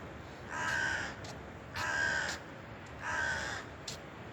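Crows caw near scattered bird food: three separate harsh calls in a steady rhythm, fairly close and clear, with no talking.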